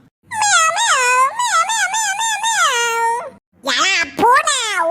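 A cartoon cat meows loudly in long, wavering, expressive cries, one extended call followed by a short pause and another shorter meow, up close in a Tamil animated birthday-party scene.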